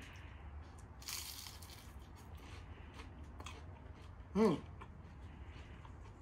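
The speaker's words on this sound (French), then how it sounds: "Ça croustille bien." A crunchy chicken samosa is bitten and chewed: faint crisp crunching, with one short louder crunch near the end, quiet and close against a low background hum.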